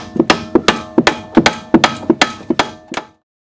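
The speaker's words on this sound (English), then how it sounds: "What I'm doing now is taking a large hammer and just lightly tapping on the top of this control arm in order to push it down into the spindle." A large hammer lightly tapping an Audi A4 B5 control arm down into the spindle during suspension work: about a dozen sharp metallic taps in a steady rhythm, close and loud, then silence.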